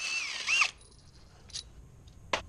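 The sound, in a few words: power tool backing out crank pulley bolt on MINI Cooper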